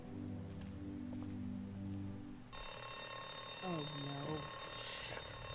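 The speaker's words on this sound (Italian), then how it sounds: "È scattato l'allarme." An alarm in The Walking Dead video game goes off after a door is opened, switching from a low droning background to a steady, shrill, tonal ringing that holds loud to the end, with warbling tones midway.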